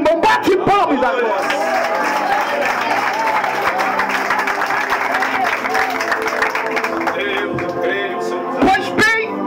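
Church congregation clapping their hands in sustained applause at an evangelistic service, a dense steady patter of many claps with a crowd murmuring underneath, ending in a few louder isolated claps.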